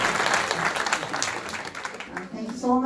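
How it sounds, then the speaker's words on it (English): At the close of a conference ceremony, a crowd gives Dr. Salim steady mid-level applause that carries through the whole moment, with a voice breaking in briefly at the end. "So now clap for Dr. Salim as well."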